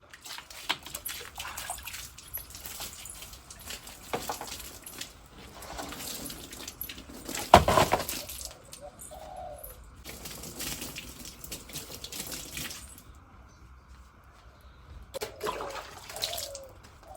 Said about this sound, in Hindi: ये कर रहे हैं पानी का छिड़काव